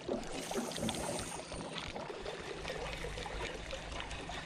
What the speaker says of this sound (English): Current's ripping through there.